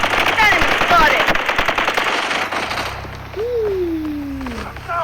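Rapid bursts of video game gunfire, loud and close, then a whistling whine as the shooting stops, with a voice calling out briefly.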